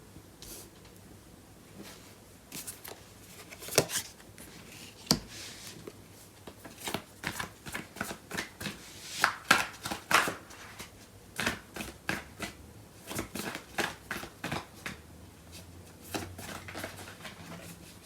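Tarot cards are shuffled by hand in quick, crisp riffles and soft slaps, close up, in irregular bursts that grow denser midway against a quiet room.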